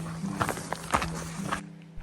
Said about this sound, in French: le bruit de mes chaussures sur les chemins et les graviers